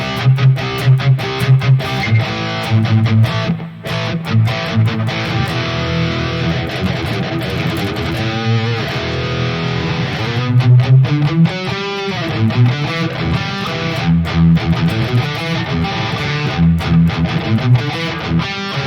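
Jackson JS32 King V electric guitar through a Harley Benton DNAfx Git JCM800 preset, delay off, playing a dry, slightly scooped distorted rhythm part with steady chugging chords and brief pauses, loud and alone.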